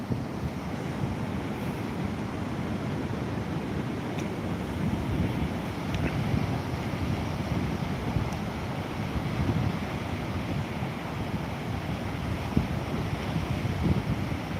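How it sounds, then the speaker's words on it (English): Steady wind and breaking waves along the North Sea shore roar evenly and close for the whole stretch, with constant wind rumble buffeting the microphone and no voices. "Alex, yes, that's the sea, the North Sea"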